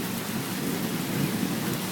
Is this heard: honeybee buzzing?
no